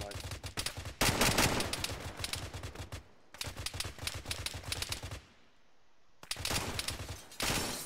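Bursts of automatic gunfire in the military shooter Arma 3, loud and close, come in several long volleys separated by short quiet gaps.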